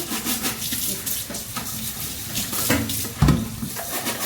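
Water poured into a kitchen sink while it is scrubbed clean gives a continuous rushing splash, close by, with a few brief clunks against the basin.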